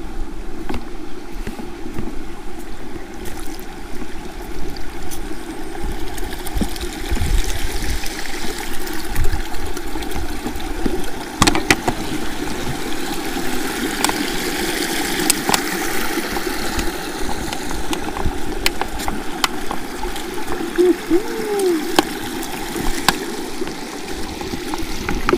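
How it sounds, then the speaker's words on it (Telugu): A waterfall at Veyyinuthula Kona near Kadapa pours in a continuous, loud wash of rushing water that stays steady throughout. "వాటర్ ఫాల్స్కి అయితే దిగుతున్నా"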